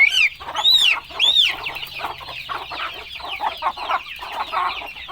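Healthy backyard chickens, two red roosters and a black hen, cluck and squawk close by in a steady, busy stream of calls, with a few sharper rising cries near the start and no talking.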